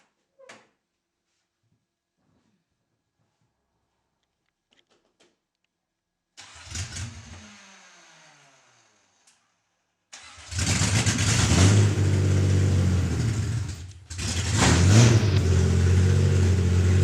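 A Datsun 280ZX engine cranking and catching after a quiet start, then loud, throaty revving in two bursts separated by a brief dip, close by and without talk.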